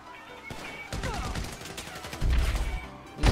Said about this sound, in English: He carried on shooting.